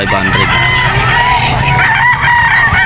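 Loud, close rooster crowing with drawn-out calls, joined by other fowl clucking and crowing around it at a pet market.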